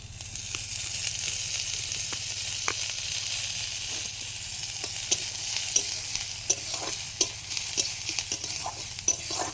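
Dal with spinach frying in a little oil crackles with a soft, continuous sizzle, with intermittent light stirring clicks and scrapes against the pan, moderately quiet and close with no speech.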